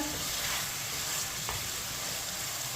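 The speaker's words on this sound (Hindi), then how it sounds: "इसे 5 मिनट के लिए चम्मच चलाते हुए भून लेंगे।" Chicken frying in a pan while a spoon stirs it, a steady, dense sizzle that stays even throughout with faint stirring scrapes, close and continuous.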